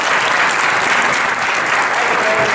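Town meeting audience applauding Governor Malloy after his introduction by the mayor of Meriden, a loud, dense burst of clapping from a full room, with faint voices mixed in.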